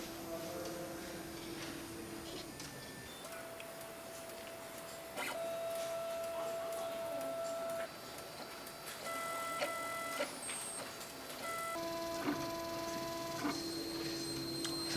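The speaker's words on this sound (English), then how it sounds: "it will perform a small priming sequence of a couple curved lines and a couple straight lines." A Voltera circuit printer runs its priming sequence, drawing a few curved and straight lines, with soft whirring motor tones that shift pitch in steps, small clicks between moves, and a quiet, close, mechanical character throughout.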